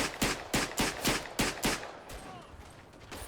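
Steady rhythmic gunfire from a weapon in the First World War shooter Verdun, six evenly spaced loud shots about half a second apart, followed by fainter distant battle noise.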